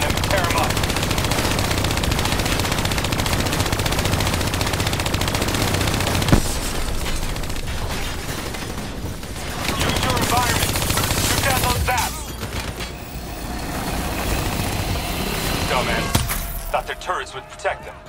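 Sustained heavy automatic fire from hijacked turrets in the shooter Call of Duty: Black Ops III, a loud continuous rattle with battlefield clatter, easing briefly and returning, with voices speaking over it.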